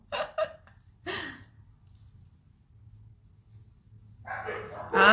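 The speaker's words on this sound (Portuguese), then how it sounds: "Olha os cachorros." Dogs bark in a few short, sharp bursts, a quick pair at the start, one more after a pause, then louder barking at the end.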